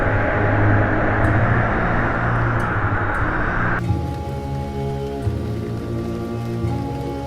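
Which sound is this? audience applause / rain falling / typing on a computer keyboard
rain falling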